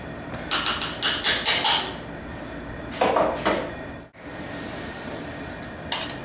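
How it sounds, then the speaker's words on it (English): An immersion wort chiller is set into a brew kettle for a pale ale brew, giving a close run of clanking metal knocks and scrapes, a pause, then a couple of heavier bumps and one last clank. "Now I'm going to also add my wort chiller in here now, immersion wort chiller."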